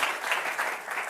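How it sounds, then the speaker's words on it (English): Audience applause for a panel at a live event, a steady wash of many hands clapping, moderately loud and continuous throughout. "Ladies and gentlemen, please let's give a warm round of applause to the panel"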